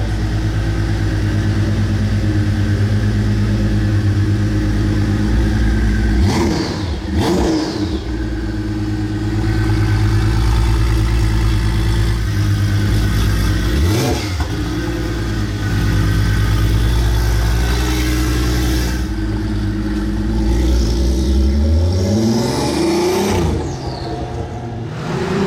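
A Porsche 911 Turbo 992 phase 2 engine running at Top Marques Monaco, a loud steady mechanical drone with rising and falling revs and a faint turbo whistle over it, close and continuous.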